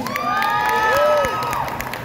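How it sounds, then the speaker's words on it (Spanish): A crowd cheers and whoops with scattered applause during a performance in Kyoto, voices rising in bright shouts that swell and hold loudly before easing slightly. "un aplauso, otra vez un aplauso"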